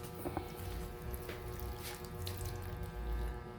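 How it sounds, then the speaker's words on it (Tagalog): Water runs quietly from a tap in a steady stream, faint and close, with no voices. "Lagyan natin ng tubig."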